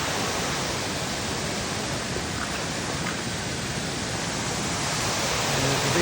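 Steady, loud broadband roar of a waterfall rushing at close range, continuous and unchanging for the whole stretch with no voices over it.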